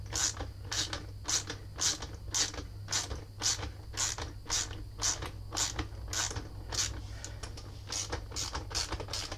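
A long bolt is screwed into a frame slider on a Yamaha R6 motorcycle, giving a steady run of ratcheting clicks at an even rhythm over a low hum, close up.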